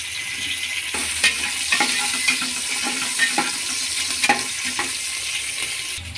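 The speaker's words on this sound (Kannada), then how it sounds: "ಈಗ ಬ್ಯಾಡಿಗೆ ಮೆಣಸಿನ್ಕಾಯಿ ಮತ್ತು ಹಸಿ ಮೆಣಸಿನ್ಕಾಯಿ ಹಾಕ್ಕೊಳ್ಳೋಣ ಕಾಳಿಗೆ ಒಗ್ಗರಣೆಗೆ" Mustard seeds, garlic, dried byadgi chillies and green chillies sizzle steadily in hot oil as a tempering for a horse gram curry, with a constant frying hiss and occasional stirring clinks and pops.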